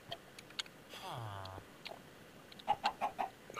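A chicken in the Beyond the Skies game clucks in a quick run of four short, soft clucks near the end, after a brief descending electronic tone and light ticking game sounds.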